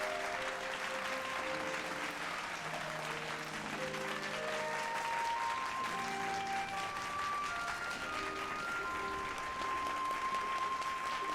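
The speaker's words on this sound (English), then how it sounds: "Starting the clap." A crowd applauds steadily throughout a Final Fantasy XIV Shadowbringers cutscene, with the dense clapping continuing over soft sustained music tones.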